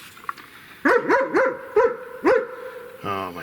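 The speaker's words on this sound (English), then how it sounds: "Get a German Shepherd, they said. No, they're good dogs. They're just very vocal." A German Shepherd dog barks five loud, sharp times in quick succession, close by, followed by a brief whine or voice at the end.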